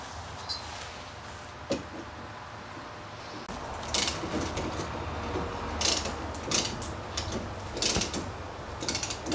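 Ratchet wrench tightening a brake caliper screw during a brake pad change, a busy run of clicking, ratcheting strokes with metallic ticks over a steady background hum, close and without talk.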